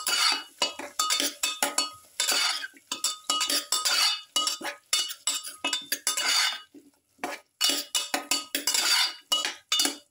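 Food being mixed in a metal pot with a utensil, repeated scraping and clinking strokes in an irregular rhythm with short pauses between, close and fairly loud, with no voices.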